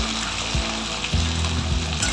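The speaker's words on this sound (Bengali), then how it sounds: "একটু ভাজা ভাজা হবে, একেবারে নেড়ে চেড়ে নিচ্ছি ভালো করে।" Broad beans and green tomatoes fry in a pan for a winter vegetable dish, a steady close sizzle with low rumbling scrapes of stirring running through the whole stretch, no voices.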